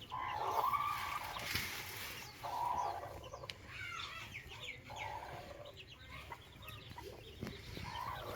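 Hens kept for hatching eggs cluck in repeated short, nasal calls at moderate distance, with a few louder bursts rising over steady low farmyard background noise.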